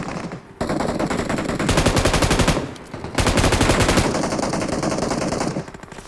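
Rapid automatic gunfire in an online shooter video game, loud dense bursts running almost continuously with a short pause near the middle, alone without talk.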